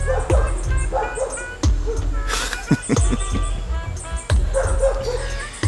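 Several sharp dog barks and yips come in irregular bursts, fairly close, with a background of chirping birds.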